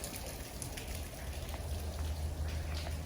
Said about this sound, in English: It's raining in here from all the snow and ice melting off the roof.